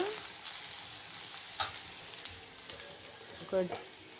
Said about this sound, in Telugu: కడాయిలో ఆయిల్ వేసుకొని ఆనియన్స్ బ్రౌన్ చేసుకోండి